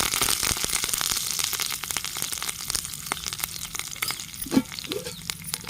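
Garlic and curry leaves fry in hot oil for a village-style dal, giving a steady, close sizzle and crackle with scattered pops and a brief stir near the end.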